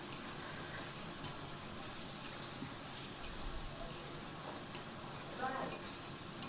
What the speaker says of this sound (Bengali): ভালো করে কষিয়ে নিচ্ছি মশলাটাকে।